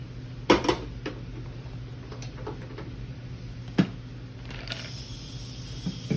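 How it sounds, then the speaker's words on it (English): Metal cooking pans clank and knock in a home kitchen as they are handled and set down, with a few sharp, close knocks spaced apart against a low background hum. "So I'm just filling both my pans"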